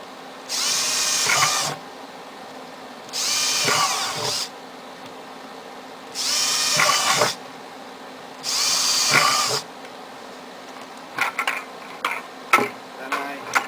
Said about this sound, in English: I drill one right on the side of each bucket.